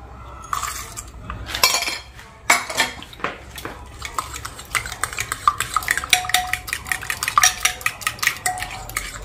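A spoon stirs a curd mixture with tempering added for vada, making close, busy clinks and scrapes against a metal vessel that grow denser and quicker as the stirring goes on.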